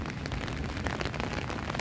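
Rain falls in the Tuileries Garden in Paris, a soft, close patter of drops hitting surfaces in a short, quiet, even stretch.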